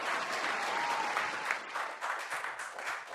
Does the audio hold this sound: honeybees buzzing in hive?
no